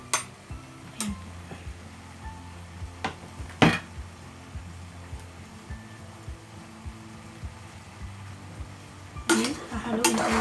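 Chicken sinigang being stirred in a cooking pot, with scattered clinks and taps of a utensil against the pot over a quiet background, including a few sharper knocks.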